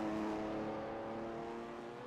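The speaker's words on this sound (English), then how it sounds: "here's Rory in that red and blue Superman BMW" A red and blue BMW race car laps the Lime Rock circuit, its engine a steady, fairly faint drone that fades slowly as it passes, with no voices.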